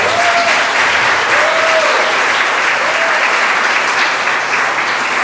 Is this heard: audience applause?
yes